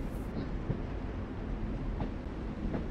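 A moving train in the video game The Walking Dead: The Final Season, a low, steady rumble with faint rhythmic rail clatter, continuous and moderately quiet.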